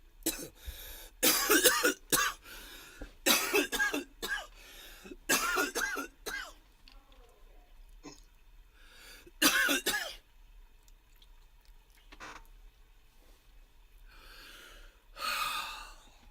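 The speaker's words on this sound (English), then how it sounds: "she hears me coughing" Several harsh coughing bursts in close succession, some with throaty gasps between them, followed by quieter breathing and a final rough exhale.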